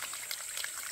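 Water trickles and drips in a small mountain stream during a mushroom-foraging hike, a soft, steady high gurgle close by and fairly quiet, with no voices.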